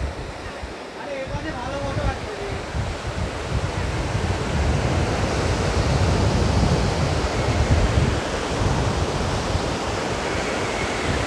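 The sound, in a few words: strong wind at the seaside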